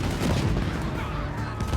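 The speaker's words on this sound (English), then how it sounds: "we decided to create the longest explosion in terms of time. So we'll be throwing dynamite one by one in specific order" Rapid consecutive dynamite explosions in the Red Dead Online video game, a dense rumbling barrage of overlapping blasts with no pause between them.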